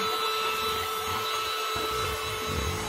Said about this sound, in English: Anyway, car vacuum.